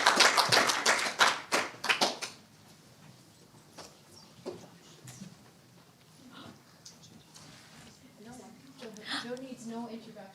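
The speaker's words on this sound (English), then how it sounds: "a round of applause for our panelists" Workshop audience gives the panelists a short round of applause, a few loud scattered claps near at the start that quickly die away into quiet room sound, followed by someone starting to speak.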